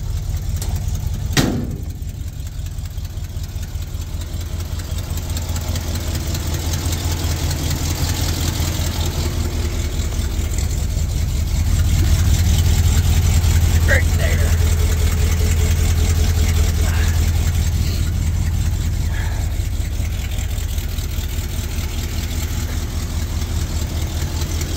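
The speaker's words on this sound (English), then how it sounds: "If you can hear that rattle or not, it's the muffler's got a crack in it." An idling car with a cracked muffler runs steadily throughout, a continuous low engine rumble with a faint rattle and a brief knock near the start.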